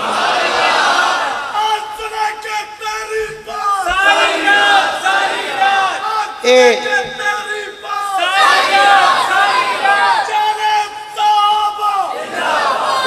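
A large crowd at a mosque sermon gathering in Karachi chants slogans in loud, rhythmic unison, with repeated roaring waves answering a leading voice.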